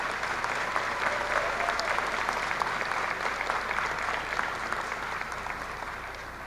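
Audience applause at a high school graduation ceremony, sustained dense clapping from a large crowd in a hall, steady and even throughout with a slight fade at the end.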